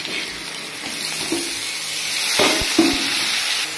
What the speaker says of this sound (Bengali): আমি আলু দিয়ে দিচ্ছি